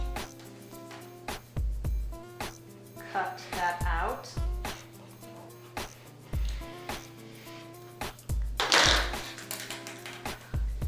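Scissors cutting through folded striped fabric pieces for an off-the-shoulder bell-sleeve top, heard as a series of sharp, close snips and crunches spread through the passage, with faint background sounds between cuts.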